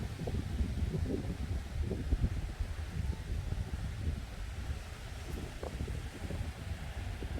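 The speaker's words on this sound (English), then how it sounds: "I think the wind is blowing quite strong now" Strong wind blowing on a tropical beach at Khao Lak, Thailand, a steady broadband roar and buffeting rumble on the microphone with no pause throughout.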